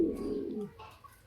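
Domestic pigeons on a Bengali breeding farm give a short, soft coo of about a second, low and close, with faint rustling afterward.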